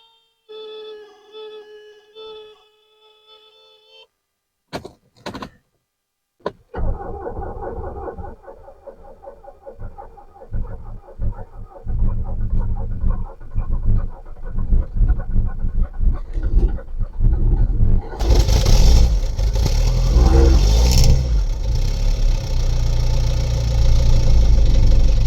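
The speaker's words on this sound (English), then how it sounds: "Glow plug this thing a couple times and give it a little cranking and click hum" A long-idle Mercedes W123 diesel, freshly fitted with a battery, gives a short tonal chime during glow-plugging, then a brief cranking burst, catches and settles into a loud, steady clattering idle that grows heavier and louder toward the end.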